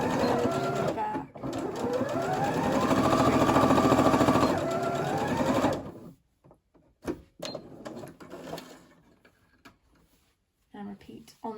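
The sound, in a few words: sewing machine stitching headband fabric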